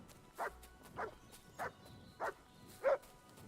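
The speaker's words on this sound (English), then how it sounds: "I hear the barks." Dog barking in the video game Kingdom Come: Deliverance II, five evenly spaced single barks about half a second apart, moderately loud over a faint background.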